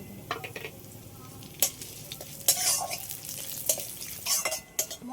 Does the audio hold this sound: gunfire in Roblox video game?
no